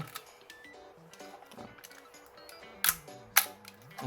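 A Nikon FE film camera's shutter fires with a crisp mechanical click, followed moments later by a second sharp snap over a quiet, faintly ticking background.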